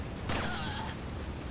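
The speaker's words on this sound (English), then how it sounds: "we can actually shoot this barrel and get that sweet collateral" In Resident Evil 4, a pistol shot hits a barrel and sets off a sharp, close blast. A brief roar of fire and debris follows, then fades.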